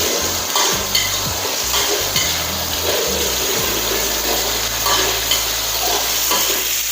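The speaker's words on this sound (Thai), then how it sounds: "ปูอัดนี่จะผัดไม่นานนะคะ เพราะว่าปูปูอัดนี่จะมีความสุกอยู่ในตัวอยู่แล้ว" Crab sticks stir-fried in a hot pan, a steady close sizzle with scraping stir strokes and a few clanks over the first few seconds, then continuous frying alone.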